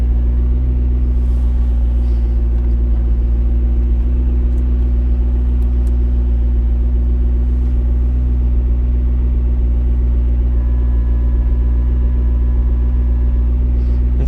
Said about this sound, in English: now we can see the idle is stable and it sounds good